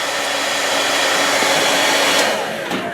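A hair dryer pointed at a refrigerator's back grill runs continuously with a steady, close whooshing whir and a faint motor hum, no voices.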